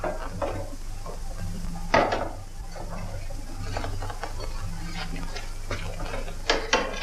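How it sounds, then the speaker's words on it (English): Dishes being washed at a kitchen sink in a 1945 film: soft clinks of plates and cutlery with scattered sharper knocks over a steady running-water hiss, moderately close. "I've got to do the dishes for Adele."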